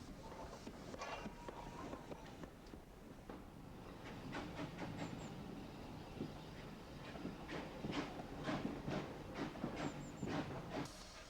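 A GWR pannier tank steam locomotive pulls away on a cold morning with rhythmic clanking, hissing and rumble, fairly distant and quiet, with occasional squeals from the wheels.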